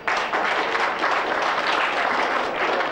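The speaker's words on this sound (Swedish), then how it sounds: "Applådera ni som är rökare." Smokers in a comedy-show audience applaud on cue, a brief burst of dense, fairly loud clapping that fills the room evenly from start to end.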